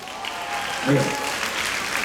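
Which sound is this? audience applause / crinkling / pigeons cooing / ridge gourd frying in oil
audience applause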